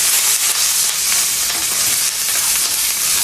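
Grated coconut roasting in a pan for a Kerala-style dish, a steady loud sizzle with scraping strokes of stirring running throughout, close and without talk.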